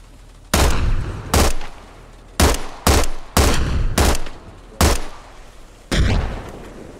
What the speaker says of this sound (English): Someone shoot me with their pistol.